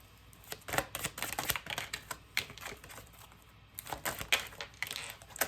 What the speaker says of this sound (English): I got these cards wet and they don't shuffle right anymore